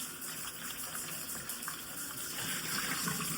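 Tap water runs steadily into a sink as vegetables are rinsed, a soft continuous splashing gush with faint shifting spatters, close but fairly quiet.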